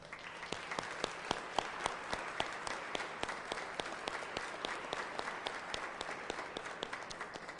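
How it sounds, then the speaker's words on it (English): An audience at a press conference for Rochester's St. Patrick's Day Parade applauds the parade committee with a steady, even round of many hands clapping, heard from a moderate distance and fairly quiet. "So let's give them a huge round of applause."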